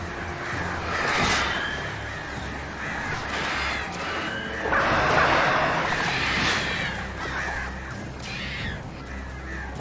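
Several crows caw repeatedly in a video game, Alan Wake Remastered, their harsh calls overlapping in bursts over a steady ambient background.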